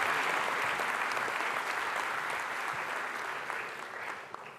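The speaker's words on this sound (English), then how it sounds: "Nice warm round of applause." A large audience at a government summit session gives a warm round of applause, dense, steady clapping that fills the room and tapers slightly toward the end.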